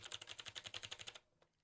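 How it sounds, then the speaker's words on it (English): Rapid, even keystrokes on a mechanical keyboard with clicky switches, a dozen or so crisp clicks in a steady run, close and clear, then stopping. "a real programmer needs a mechanical keyboard with clicky switches"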